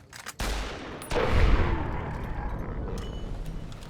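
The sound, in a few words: rifle gunfire in video game Fallout: New Vegas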